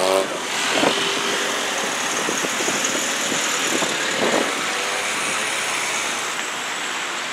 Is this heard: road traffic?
yes